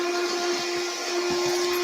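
A Hoover vacuum cleaner runs with a steady, loud motor whine and an airy hiss. The drone is continuous and close, and nobody speaks.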